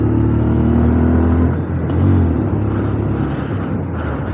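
A Bajaj Pulsar 150 Twin Disc motorcycle pulls away after a downshift, its engine note droning steadily and loud up close, with a brief dip and a rising surge in revs partway through.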